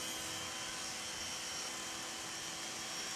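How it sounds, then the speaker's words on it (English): A diamond-coated rotating burr grinds on a horse's teeth during equine dental alignment, giving a steady, close, high-pitched buzzing whir that runs without a break. "a different instrument. a rotating burr, which is coated in diamond"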